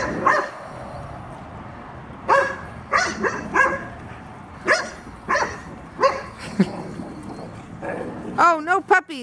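English bulldog and other dogs barking in play, a series of sharp barks and yips spaced through the scene with a brief whimpering whine near the end, close by over background speech.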